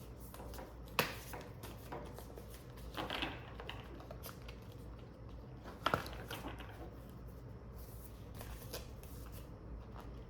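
Oracle moon cards shuffled by hand, a soft continuous riffling and flicking with a few sharper slaps, close but quiet, with no clear talking.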